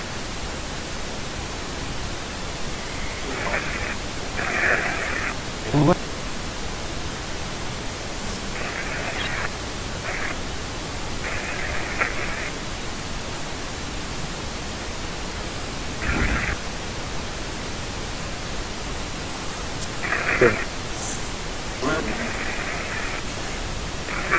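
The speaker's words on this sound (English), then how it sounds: "like I said, the pink noise" Steady broadband hiss of a pink noise test signal fills the whole stretch, with a few brief bursts and clicks popping up over it.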